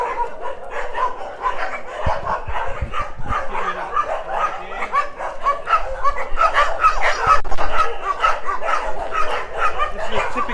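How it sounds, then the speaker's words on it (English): Rescued dogs, saved from the dog meat trade, bark in a chorus at the Soi Dog Foundation shelter in Phuket: many overlapping barks and yips, near and far, continuous throughout. "They're mainly dogs rescued from the dog meat trade."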